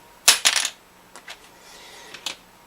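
A small tusq saddle blank dropped onto a hard surface, giving a few bright clicking clinks up close, followed by lighter taps and rattles as it settles.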